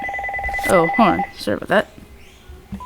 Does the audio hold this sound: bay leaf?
no